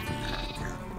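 Sheep in a block-building video game giving a short, wavering bleat, close and clear over soft game background sound.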